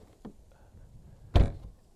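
A Lotus Emira V6 door swings shut with a single solid, muffled thunk, close and fairly loud, preceded by a faint lighter knock and light handling noise.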